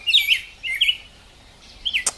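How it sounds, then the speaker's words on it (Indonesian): Three bright bursts of bird chirping, quick tweeting calls spaced about a second apart, clear and fairly close against a quiet background, with a sharp click near the end. "Itu suara kicauan burung."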